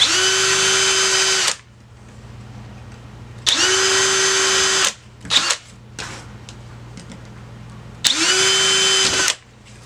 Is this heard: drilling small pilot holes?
yes